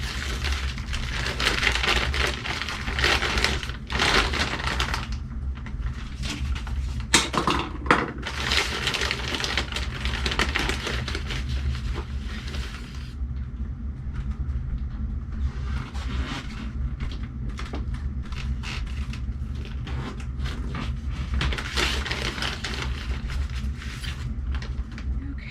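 Seed starting mix for broccoli is scooped and spread into a seed tray, producing continuous soft rustling and gritty scraping up close, with occasional light taps and no speech.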